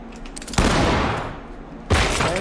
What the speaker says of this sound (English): So we're just gonna have them Blow the shotgun lock. and flash.